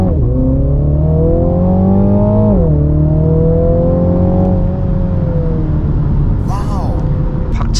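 A Mini Countryman JCW accelerates hard, a loud, close engine note climbing steadily in pitch, easing briefly and then rising again as the car pulls on a straight, with steady road and wind rumble underneath throughout.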